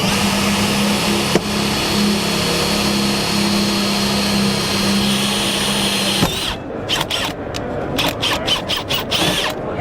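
A drill-and-tap bit grinds into stainless steel with a steady loud whine for several seconds, then breaks into choppy, stuttering bursts as the tapping finishes.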